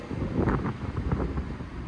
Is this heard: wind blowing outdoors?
yes